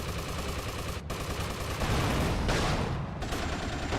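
Continuous gunfire rattles in GTA: Liberty City Stories, with dense automatic bursts and heavy shots running back to back, broken by one short gap.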